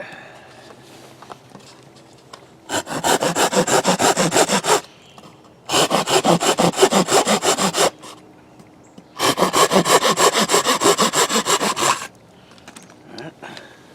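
Hand saw cutting wood for bushcraft in three long bursts of rapid back-and-forth rasping strokes, close and loud, separated by quiet pauses with faint background rustle.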